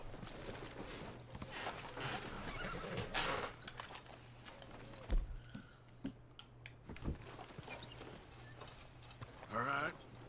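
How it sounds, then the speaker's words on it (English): A horse whinnies and hooves clop in the video game Red Dead Redemption, faint and intermittent under quiet talk, with small mechanical clicks scattered through. "We should leave the horses."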